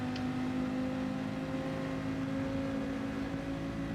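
Race car engines in Gran Turismo 7 drone through a corner with a Volkswagen and a Porsche running close ahead: a constant harmonic engine whine, loud and steady, with no voices.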